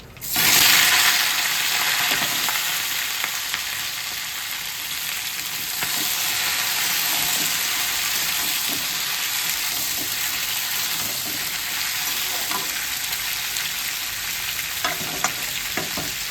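Mixed vegetables such as aubergine and cauliflower stalks tipped into hot oil for a Bengali chorchori, setting off a loud, steady sizzle that holds for the whole stretch with occasional stirring clinks and no talk.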